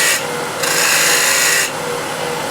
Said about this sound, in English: 1/2 inch spindle gouge, and I'll just make a little chamfer here, like so, and just slightly crown this